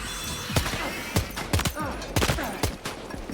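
Several sharp gunshots fired in Death Stranding 2, spaced irregularly over a few seconds, some in quick pairs, loud and close against a low game background.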